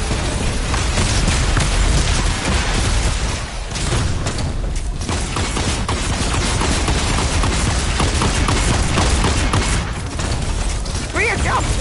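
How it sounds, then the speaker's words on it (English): Sustained gunfire in the Fortnite video game, dense rapid shots and booms continuing loudly across the whole stretch with chaotic battle noise and some voice underneath. "I'm shooting you guys"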